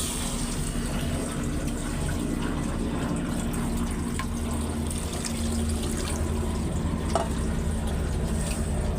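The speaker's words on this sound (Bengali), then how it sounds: "এই যে ঝোলটা দিয়ে দিছি" Broth poured into a pan of fish head curry with tomatoes and spices, a steady liquid wash with a low bubbling hum, close and continuous with no talk.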